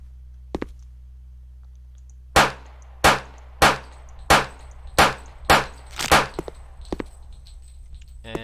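Seven sharp, evenly spaced gunshots fired at a wall in a Unity first-person shooter game, each a crisp crack with a short decaying tail, loud and close, followed by a few fainter clicks.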